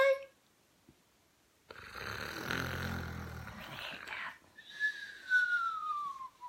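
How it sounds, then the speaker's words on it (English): A person snoring, one long rough rasping breath in the middle, set between quiet gaps and a whistle-like tone. "And why are you snoring?"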